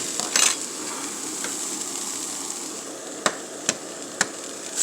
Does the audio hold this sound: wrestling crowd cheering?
no